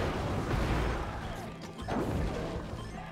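A loud, booming explosion in the Sunset Overdrive video game, a dense broadband crash that swells, dips briefly near the middle, then surges again before fading.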